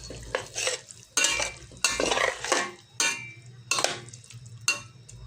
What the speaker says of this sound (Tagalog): Haluin ko lang.